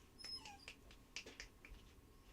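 Small dog or puppy whimpering in short, faint, high-pitched whines scattered over a couple of seconds indoors, close by but quiet.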